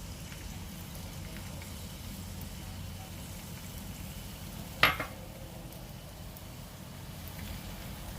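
Potatoes fry in a tablespoon of oil in a pan, a soft, steady hiss of sizzling that runs throughout, broken once midway by a single sharp clink.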